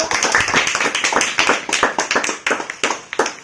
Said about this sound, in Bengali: সবাই জোরে হাততালি দাও ওদের জন্য